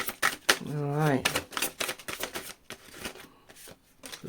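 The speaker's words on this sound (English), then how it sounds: "Last shuffle." Tarot cards being shuffled in quick riffling bursts of crisp clicks and papery flutters, close by, with a voice speaking briefly partway through.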